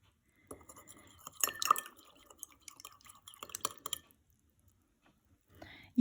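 A metal spoon stirs salt into water in a glass, giving light, irregular clinks and taps against the glass in short bursts separated by quiet gaps.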